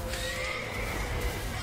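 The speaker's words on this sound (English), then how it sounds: "I didn't actually have my horse anyhow. Yours looks pretty upset, Dandelion." A horse neighs in The Witcher 3: Wild Hunt, a loud, close whinny that carries over steady game ambience with a faint hint of hooves.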